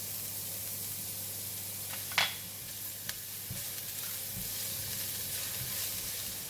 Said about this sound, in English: When the oil is hot, I'm putting in the garlic.